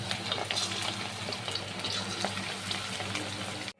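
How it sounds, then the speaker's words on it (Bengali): Chicken pieces fry in hot white cooking oil, a steady, fairly quiet bubbling hiss that runs evenly throughout before cutting off abruptly, with no talking. "আর আমি এবার মাংসগুলো ভেজে নেব।"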